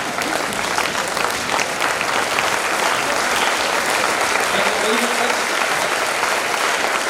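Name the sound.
loud audience applause at a college event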